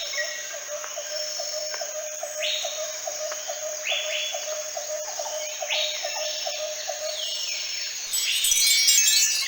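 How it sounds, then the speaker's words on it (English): Small birds sealed inside a tree chirp in the 1997 PC game The Pink Panther: Hokus Pokus Pink, with a steady run of short, evenly spaced tweets and a few brighter sweeping calls over a constant ambient bed, rising slightly louder near the end. "There must be some way to free those little birds trapped in there."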